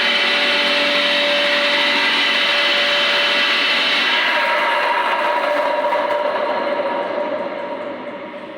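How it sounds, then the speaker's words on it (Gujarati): A manual fire pump runs steadily inside a fire pump house, a loud continuous motor whine with a faint tonal hum that slowly eases and drops slightly toward the end. "તો મેન્યુઅલ પંપ ચાલુ કરો તો પાછા એકવાર ફરી।"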